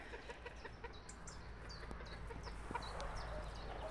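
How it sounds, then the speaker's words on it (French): A frizzle hen clucks softly among other farm chickens, with scattered short chirpy calls over a constant low background hum, fairly faint and distant. "Très sympa, cette petite poule."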